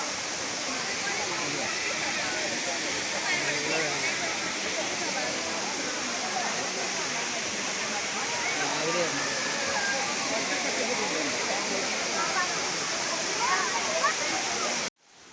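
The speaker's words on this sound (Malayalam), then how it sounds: "ഇതിന് താഴെ ഒരു ചെറിയൊരു വെള്ളച്ചാട്ടമുണ്ട്" The small Paaloorkotta waterfall roars as a constant broad rushing wash of falling water, loud and close for the whole stretch, with faint crowd chatter buried underneath before it cuts off abruptly at the end.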